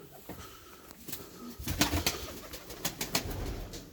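A stray Sabuni pigeon coos softly amid outdoor rooftop noise, with a few sharp knocks and rustles punctuating the low, intermittent cooing.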